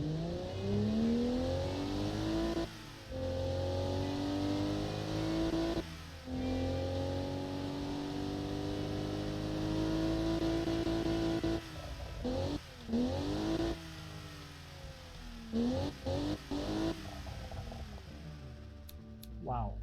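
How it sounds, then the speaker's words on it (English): A video game car engine in Automation revs repeatedly, rising in pitch through the gears with brief drops between pulls, loud and continuous, ending in quick blips. "So let's hear this beautiful engine."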